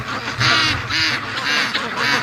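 Free range ducks quacking near a farm lake, a loud close run of four harsh, nasal quacks in a steady rhythm, with more birds calling softly in the background.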